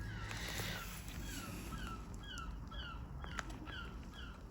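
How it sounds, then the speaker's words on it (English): Seagulls nesting on a neighbour's flat roof call again and again, with sharp descending cries that repeat every second or so above a constant low outdoor rumble. "You hear those seagulls?"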